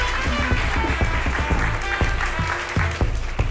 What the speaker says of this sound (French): Vous pouvez applaudir donc Julie Bergeton